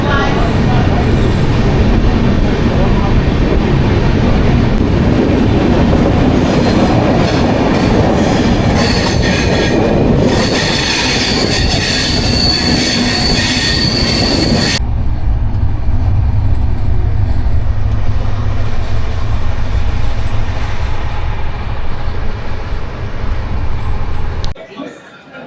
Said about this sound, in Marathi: एर्नाकुलम, निजामुद्दीन आहे तिकडची ट्रेन